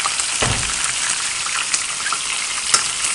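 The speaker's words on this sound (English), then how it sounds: "I'm going to go ahead and toss this while it's in the pan" Pork satay and scallions tossed in a hot frying pan give a steady close sizzle with a few soft thumps and scrapes as the food shifts, and nobody speaks.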